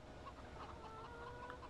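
Chickens clucking in Farming Simulator 2017, soft repeated clucks from several birds over a steady faint background, no talking.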